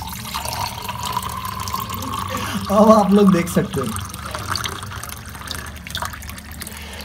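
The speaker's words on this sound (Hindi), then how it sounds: "एक बार ये और डाल के दिखाता हूँ आपको पानी" Water poured into a Milton Thermosteel 2000 ml carafe, a short gurgling fill rising for about a second under someone speaking Hindi, with steady background hiss around it.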